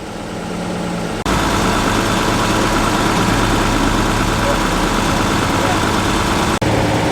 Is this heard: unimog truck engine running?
yes